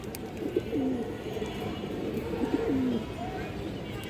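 A female pigeon of the Harami line coos twice in low, rolling bursts amid steady market background noise and faint distant talk.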